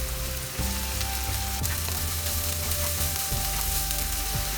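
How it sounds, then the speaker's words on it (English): Vegetables stir-frying for veg fried rice, spring onion bulbs and celery among them, give a loud, steady sizzle, with repeated scrapes and clunks of stirring in the pan and no talking. "Keep stirring."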